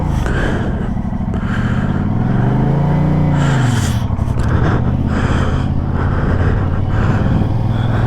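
Brand new 2024 Yamaha MT-07 motorcycle on a test ride, its engine droning steadily and loudly throughout with a rising and falling rev sweep midway, heard close up with wind rush and no talk.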